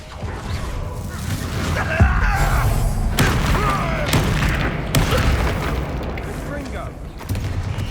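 Explosive booms and crashes from a fire-blast spell in the Hogwarts Legacy video game burst repeatedly through a loud, dense battle mix, with voices shouting over the blasts.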